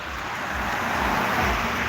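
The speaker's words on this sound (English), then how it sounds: "Don't get hit by a car." A car passes on the street outside a theater, a steady broadband road rumble and tire hiss that swells slightly toward the middle, fairly near with no talk.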